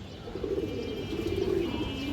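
A female black-necked pigeon with a large head gives low, throaty coos in a short soft burst, close and alone against a quiet background.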